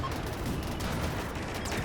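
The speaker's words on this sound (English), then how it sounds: "So target that Met Glow shield and open fire." Dense, continuous gunfire from the Rimworld video game, a loud rattling fusillade of overlapping shots and bursts filling the whole moment with no voices.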